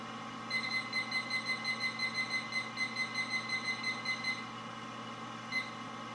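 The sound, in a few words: brewing timer beeping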